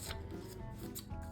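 Scissors snip through printed white paper during a craft project, making a few soft, crisp cutting strokes close by in a quiet room.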